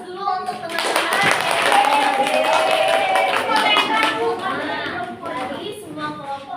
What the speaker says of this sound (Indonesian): coba beri aplaus dulu untuk teman-teman